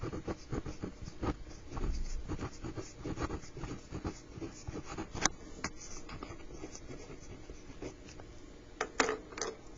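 Pen or marker writing out an ordered pair while solving a system of equations, a steady scratchy patter of strokes with a few sharper taps, close and fairly quiet, no speech.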